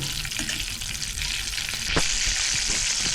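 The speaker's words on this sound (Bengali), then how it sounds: "মাখনটা যাতে গলে যায় সেই অবস্থায়, এই যে এরকম যেন গলে" Butter melting and sizzling in hot oil in a pan for a lemon pepper chicken dish, giving a steady, close, continuous frying hiss with a brief louder crackle partway through, no voices.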